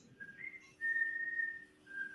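A pet parrot whistles melodic notes indoors: a short rising call, then a long steady whistled tone, then a brief final note, clear and close against a quiet background.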